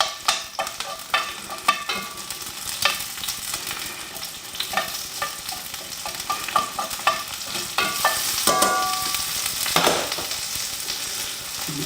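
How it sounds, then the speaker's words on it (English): Onion and vegetables fry in a pan, a steady close sizzle broken by repeated scraping and stirring strokes, with no voices. "what I want to be able to do now is get my vegetables in this pan. So I'm going to go ahead and start with my onion"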